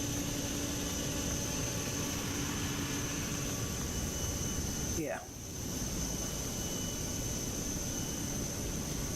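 Airbus A321 jet engines in Microsoft Flight Simulator 2024 give a steady broadband roar and whine with a faint rising tone midway, as a voice speaks briefly over it.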